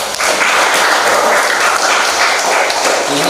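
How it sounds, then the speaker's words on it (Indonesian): Audience applause in a newly opened building at a waste-bank tourism village seminar, a dense burst of clapping hands, loud and close, lasting a few seconds without talk. "Tepuk tangan."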